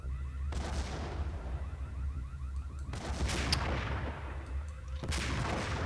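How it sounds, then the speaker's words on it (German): Booming grenade launcher blasts from the video game Max Payne come in three heavy bursts, each with a long rumbling decay, over continuous low game ambience. "Und es ist natürlich geil, dass der Granatenwerfer so schön weit geht."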